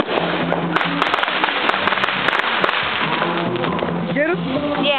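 Fireworks going off outdoors in 2009, a dense crackling barrage of sharp snapping pops and bangs that fills the scene continuously, with a few whistling streaks near the end and people talking faintly in the background.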